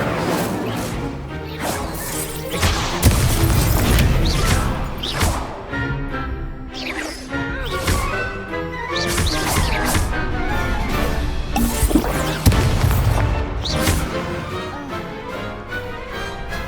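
Incendio and Descendo spells cast during a dueling tournament in Hogwarts Legacy, giving repeated whooshes, sharp whacks, smashes and thuds in quick succession, loud and busy across the fight.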